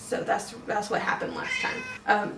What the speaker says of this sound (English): Yes, there's a cat in the background.